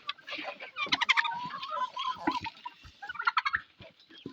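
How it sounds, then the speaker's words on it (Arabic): Several turkeys gobble in rapid, overlapping bursts nearby, a loud rattling chorus with short pauses and occasional clucks. "طلع بس الديك الرومي لانهم ما بيعرفوش يطلعوا"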